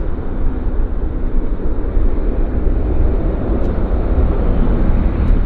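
A jet airliner at Vancouver airport makes a loud, steady roaring rumble that fills the whole stretch without a break, with no voices.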